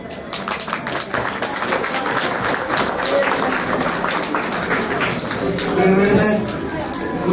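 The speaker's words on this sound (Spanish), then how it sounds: "Fuerte las palmas para él." Steady, loud applause from an audience at a primary school graduation ceremony, continuous clapping that holds for several seconds with a slight swell near the end.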